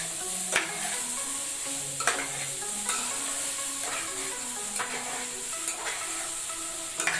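Soya chunks with turmeric powder are stirred in a frying pan, a spoon scraping in steady, repeated strokes over a constant soft sizzle, close and alone with no talking.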